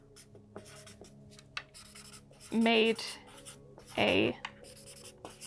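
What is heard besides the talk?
pen writing on a piece of paper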